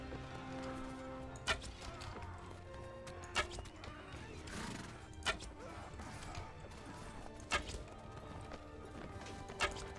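Horse hooves and neighing ring out in the medieval combat game Mount & Blade, set against a steady din of battle with sharp impacts recurring about every two seconds.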